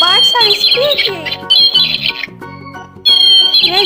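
Toy birds give repeated squawks and bright chirping calls, loud and close, in bursts with brief gaps between them, and no one talks over them.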